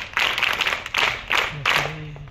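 Schoolchildren at a motivational talk at Little Blossom School, Dharangaon, burst into loud, dense group clapping in several short rounds, each surge rising sharply then fading, with faint voices in the background.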